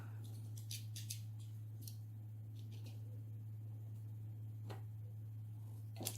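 Scissors or a trimming blade make a few quick, faint snips and clicks while paper is cut off gray board, isolated crisp sounds over a steady low hum in a quiet room.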